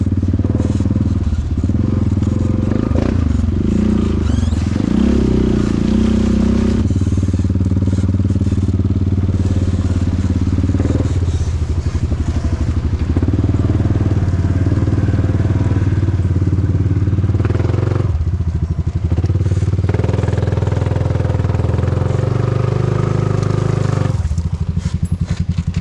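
A Honda motorcycle engine runs steadily and loud throughout, with a deep continuous drone, some clattering and thuds mixed in.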